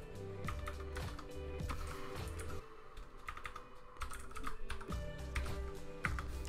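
Keyboard typing on a computer during a C++ coding session, a steady run of quick, close clicks in uneven bursts with brief pauses, fairly quiet and with no talking.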